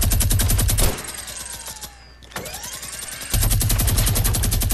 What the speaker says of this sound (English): Brady, I'm using a minigun, okay?